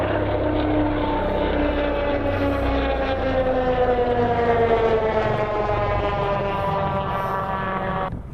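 Sikorsky S-97 Raider compound helicopter in test flight at Redstone Arsenal, its loud rotor and propeller drone holding a steady buzzing pitch that slowly shifts as it passes close, then fades abruptly at the end.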